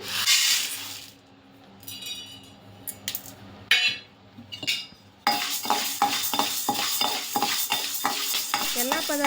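Urad dal being dry-roasted in a pan while making chakli, with irregular scraping and stirring strokes, a brief quiet gap, then a denser run of rhythmic stirring scrapes close by.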